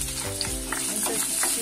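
Onions frying with whole spices in hot oil, a dense continuous sizzle up close with repeated stirring scrapes and low clatter throughout, no voices.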